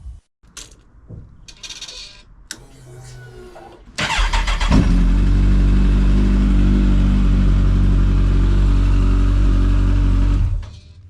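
A few mechanical clicks and clatters, then a Kawasaki ZZR 1400 motorcycle engine turns over after an oil and filter change and settles into a loud, steady idle that runs for several seconds before cutting off.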